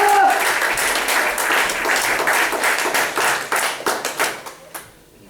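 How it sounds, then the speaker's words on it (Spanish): A church congregation bursts into loud applause, a dense rush of clapping that thins into scattered claps and fades out near the end, with a voice briefly over the start. "Denle un aplauso al Señor por eso."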